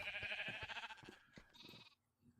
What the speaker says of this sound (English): So we're getting a population of sheep going here.